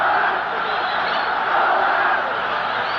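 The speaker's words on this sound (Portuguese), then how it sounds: "A torcida gritando Colorado" A football crowd at an Internacional match chants and shouts together, a dense, steady roar of massed voices filling the stadium from start to finish.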